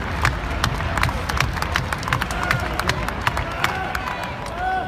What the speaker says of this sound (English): We're beating on the seats.